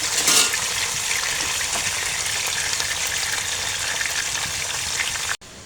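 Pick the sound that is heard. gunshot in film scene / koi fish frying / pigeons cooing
koi fish frying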